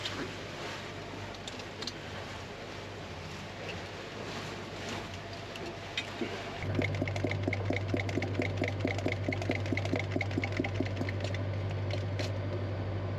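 A sailboat's engine runs steadily while fuel is pumped, a low drone that grows louder and adds a rapid rhythmic pulsing partway through, continuous with no talk.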